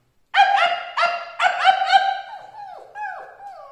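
A human voice imitates a small dog with a series of high, whiny yips and whimpers, several quick cries followed by softer falling whines. It sounds close and clear, with no other talk.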